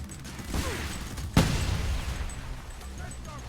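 Rocket launcher explosion in the video game Homefront, a single sharp blast with a rumbling tail amid game noise, and a voice talking over it.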